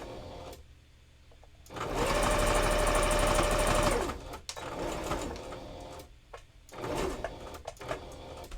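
A sewing machine stitches a fursuit dragon tail in a steady, loud mechanical whir lasting about two seconds, followed by quieter handling noises and faint rustling.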